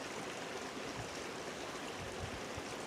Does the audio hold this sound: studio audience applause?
no